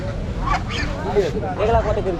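Several geese honk in short nasal calls at a market, close by, overlapping with a person talking in the background.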